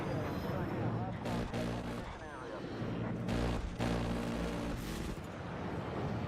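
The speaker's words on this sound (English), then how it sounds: "the jet cannon's sounds have been improved a lot" Jet cannon fire in the Battlefield 6 video game, loud ripping bursts in several rapid volleys with short gaps, under a rumbling engine background and talk.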